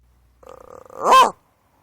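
A man imitates a wolf growling, a short rising vocal snarl that swells loudly for about a second after a brief quieter murmur, then stops.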